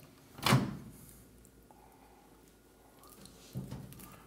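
A Toshiba convection microwave oven door is pulled open with one quick, fairly quiet latch clunk, followed by a softer thud a few seconds later in a quiet kitchen.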